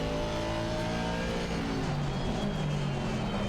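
Engine of an Aston Martin Vantage GT4 race car in Assetto Corsa Competizione at Barcelona, a loud, continuous mid-pitched drone that rises and falls with shifting revs, steady throughout.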